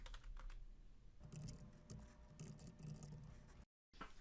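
Soft computer keyboard typing, a quiet patter of keystrokes in irregular bursts against faint background hum, cutting briefly to silence near the end.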